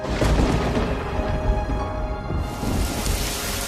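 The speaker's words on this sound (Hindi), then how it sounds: "अरे देखो, बारिश शुरू हो गई।" Steady rain pours down in a dense, even hiss, with a faint low rumble underneath.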